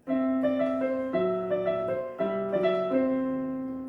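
Piano plays a phrase of Carol of the Bells, a steady run of repeated struck notes over sustained low tones, close and bright, with no voices.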